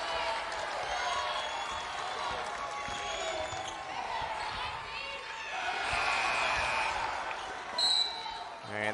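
Basketball fans at Castle Coliseum applaud the Virginia Tech Hokies during a women's game against Clemson, a steady broadband crowd roar that swells midway and sits under a commentator's continuous talk.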